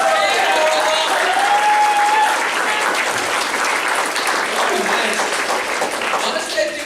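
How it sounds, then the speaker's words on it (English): Audience applause at a retro gaming convention guests panel, with loud, continuous clapping and cheering from a crowd filling the room throughout. "Can we give a round of applause for"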